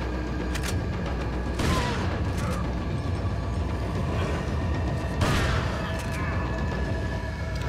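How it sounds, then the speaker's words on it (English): Flash grenade going off in Resident Evil 4, two sharp broadband bursts about three and a half seconds apart over a dense, steady game soundscape with creaking, mechanical texture. "Flash grenade."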